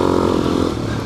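A dirt bike revving as it rides through sand in New Mexico, a loud close engine drone with a slight fall in pitch across a brief moment.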